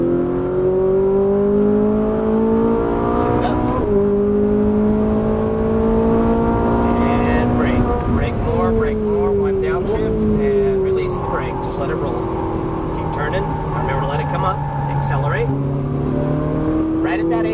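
Ferrari 458 on a track, its engine note sweeping up and down as it accelerates, lifts off and rolls back on the gas through a cone course, loud and close throughout, with a driver talking over it.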